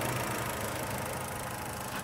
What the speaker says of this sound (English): This is the A16 1600 4-cylinder petrol engine.